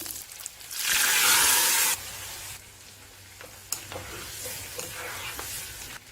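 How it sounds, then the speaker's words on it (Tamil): Urad dal, cumin and curry leaves are dropped into hot oil for tempering, setting off a loud burst of sizzling that quiets to a softer crackle with a few stirring scrapes. "பால் கூட்டுக்கு தாளிக்கிறேன் உளுந்து சீரகம்"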